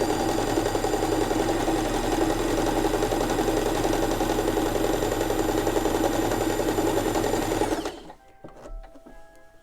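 A Janome sewing machine stitches fabric with a presser foot in a loud, steady run for about eight seconds, then stops, leaving faint clicks and handling noise.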